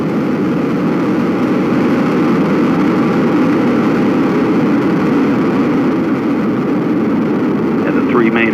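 Space Shuttle Atlantis's three main engines give a steady broad roar during launch, heard at a distance as a constant rumble with a voice talking over it.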